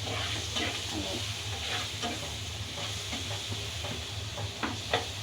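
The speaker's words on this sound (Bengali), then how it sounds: "এই তেলটার মধ্যে ভেজে" Green chilies fry in hot oil in a pan, giving a steady, moderate sizzle with faint pops and crackles throughout and no talking.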